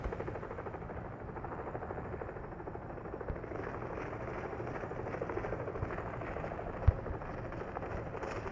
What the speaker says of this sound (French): Mais un petit drone. Tiens, il y en a un qui vient de passer là.